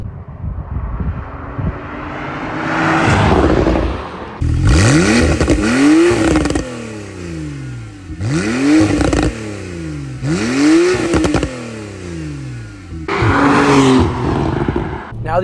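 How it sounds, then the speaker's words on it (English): Exhaust of a modified Porsche 991.2 Carrera S revving repeatedly, with several sharp rising and falling blips in close succession, loud and near, with no talk. "I'm gonna let you guys listen to the exhaust now"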